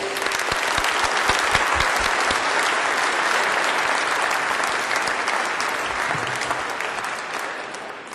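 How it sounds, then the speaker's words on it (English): Sustained, dense audience applause at a Department of Sanitation swearing-in ceremony, steady and full for several seconds before easing slightly at the end. "I think they all deserve another round of applause."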